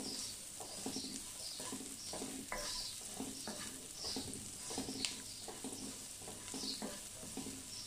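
Broccoli being stir-fried in butter in a pan, a steady soft sizzle with scraping stir strokes throughout, close and fairly quiet, with no talking.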